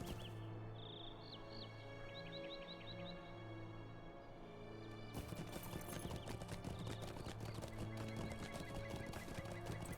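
Horse hooves clip-clop steadily in Lord of the Rings Online, joined by a whinny and light bird chirps before the hoofbeats grow louder and denser midway.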